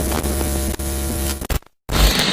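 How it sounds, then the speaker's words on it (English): Busy working warehouse at a campervan conversion workshop, filled with dense, loud machinery hum and clatter that runs steadily, breaks off briefly into near silence, then resumes at full strength. "Excuse the noise levels, this is obviously a working warehouse"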